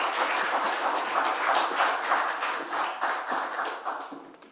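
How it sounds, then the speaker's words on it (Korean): A church congregation claps to welcome the pastor, a dense and steady round of applause from many hands that slowly fades toward the end. "우리 목사님 나오실 때 우리 사랑과 격려의 박수 해드리겠습니다"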